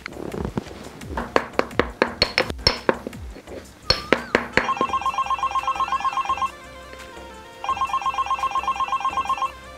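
Telephone bell ringing in repeated electronic trills after a run of clinking knocks, the ring steady and fairly close, pausing once before resuming.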